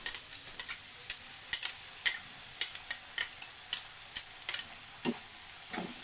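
Shrimp and spinach fry in a pan while a spatula stirs them, giving a soft background sizzle punctuated by a steady run of crisp scraping taps, roughly a couple per second.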